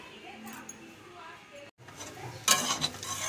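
Chow mein being stirred in a wok, with scraping, clinking utensil strokes and a sizzle that grows louder toward the end. A voice talks over the cooking.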